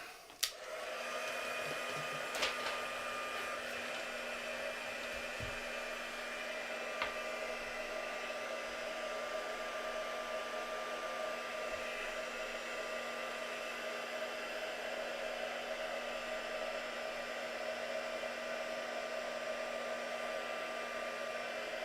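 A heat gun blows steadily, warming stencil paint on boot prints: a constant close whirring hiss that runs unbroken from start to finish, with a couple of faint knocks early on.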